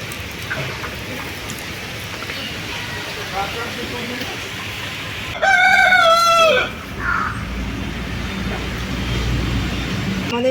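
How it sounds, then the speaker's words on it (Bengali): A rooster crows once nearby, a loud drawn-out call rising above a rural backdrop of faint rustling and ambient noise. "মোরগটা শুধু ডাকতেছে"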